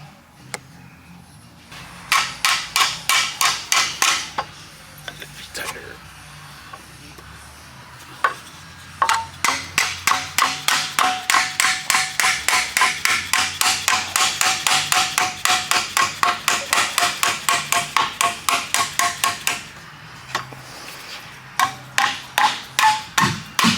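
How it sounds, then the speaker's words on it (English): A mallet whacks a cracked car oil pan in fast, sharp repeated strikes, some in short bursts and then a long steady run of evenly spaced metallic knocks, loud and close with no talking. "Get your whacking mallet."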